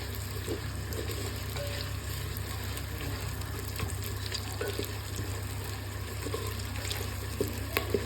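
Onions fry in hot oil for chicken pulao, giving a steady, even sizzle with a low continuous hum beneath and a few faint clinks and stirring scrapes scattered through.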